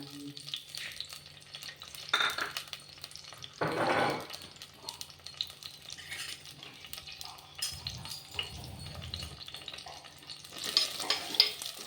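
Onions sauté in oil in a pan, giving a soft, quiet sizzle with occasional stirring scrapes and utensil clatter, and no voices.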